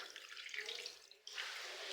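Smelly water drains out of a washing machine in a steady, faint splashing trickle, dipping briefly near the middle before running on again.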